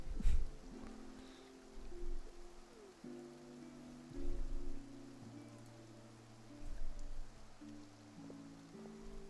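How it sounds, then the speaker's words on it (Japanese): Steady rain falls in the video game Genshin Impact, out in the Fontaine region, a soft even wash of patter under a low musical drone with swells in loudness, and no talk. "雨が降ってきたみたい。"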